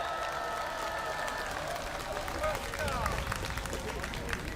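Crowd applause at an outdoor right-wing political rally in Yeouido, Seoul: a broad wash of clapping with scattered cheers and murmuring, heard from a distance under a babble of voices.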